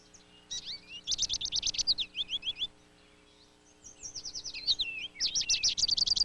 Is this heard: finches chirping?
yes